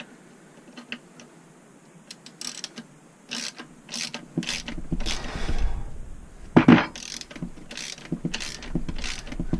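Bolts being fastened with a ratchet while fitting a part-time 4WD kit to a Land Rover Defender 110, giving irregular metallic clicks and clunks, quiet at first and busier and louder later, with no talk.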